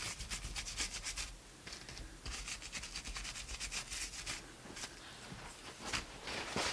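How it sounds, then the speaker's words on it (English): A brush scrubbing raw umber paint into a textured mixed media surface gives steady scratchy rubbing strokes, close and continuous, with no talking. "I want to really scrub it in there because that shows off all the texture."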